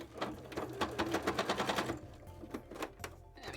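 A sewing machine stitches scales for a costume tail in steady rapid bursts, loud and close, pausing briefly before a few shorter runs.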